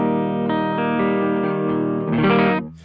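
A Jazzmaster electric guitar played through a Stereotone OTS Mini 20 amp gives a clean tone: a sustained chord ringing, then a brighter strum near the end before it cuts off, loud and alone.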